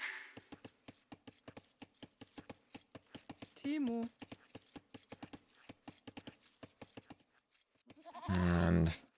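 Goats bleat in a strategy video game tournament match, with a short wavering bleat mid-way and a louder, sustained one near the end, both under steady fast-paced commentary from a caster.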